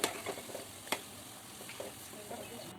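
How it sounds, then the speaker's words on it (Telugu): Soft crackle of punugulu fritters made from leftover rice frying in oil, with a few light clinks of stirring, fairly quiet and close, no voices. "మొత్తం పునుగులన్నింటినీ ఇలాగే వేయించుకోవాలి."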